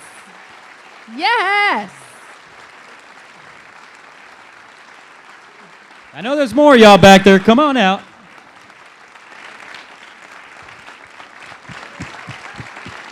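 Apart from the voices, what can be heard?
audience applauding finalists coming on stage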